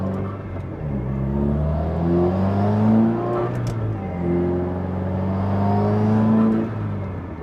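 A Subaru WRX running a valet map drives along at normal, gentle pace, its engine note rising and easing in two smooth swells, steady and close with no talking.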